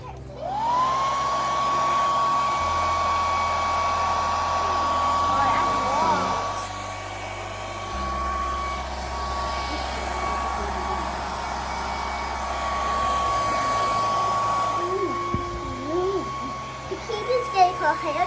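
A hair dryer runs steadily for most of the clip with a strong, constant whine and airflow, loud and close, while a voice and background sounds come and go underneath.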